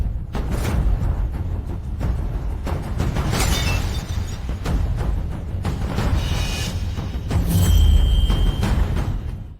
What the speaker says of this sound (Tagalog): Naku, basag na ang mga souvenir.